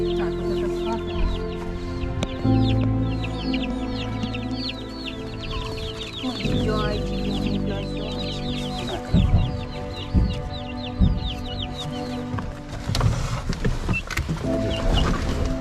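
Chickens cluck and chatter continuously amid a crowded, noisy evacuation vehicle near the front line in Avdiivka, Ukraine, with low rumbling and some thumps mixed in.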